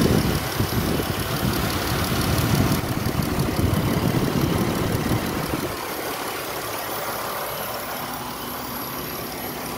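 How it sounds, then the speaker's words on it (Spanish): A car engine idling with its radiator cooling fans switched on after the air conditioning is turned on, a steady loud whirring drone that drops to a quieter, smoother hum partway through. "ahí prendieron ya los abanicos porque prendí el aire"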